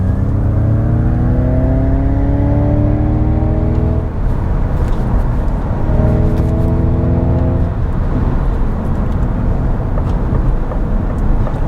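A steady electric motor whine climbs in pitch as a 2021 Ford Mustang Mach-E GT accelerates, then rises again after a brief dip, with loud road and wind noise throughout.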